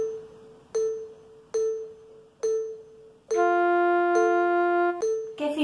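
Sustained bell-like tones from a simple instrument: three short struck notes spaced evenly, then one long held note lasting about two beats with rich ringing overtones, followed by another short strike, clear and alone.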